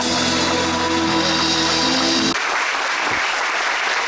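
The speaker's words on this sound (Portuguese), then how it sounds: "Vamos aplaudir nosso Senhor bem forte." Church congregation clapping loudly during a worship service in São José dos Campos; steady, dense applause fills the whole stretch, with sustained musical tones underneath for the first half before they drop away.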